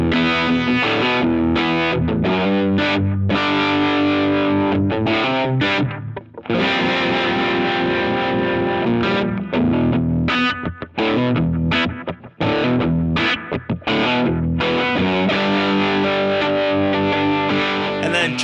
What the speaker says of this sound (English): Let's add a bit of harmonic tremolo.